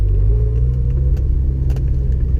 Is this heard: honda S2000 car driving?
yes